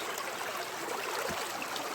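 Water running through a gold prospecting sluice box in winter, a steady broadband rush and trickle at moderate level with no voices.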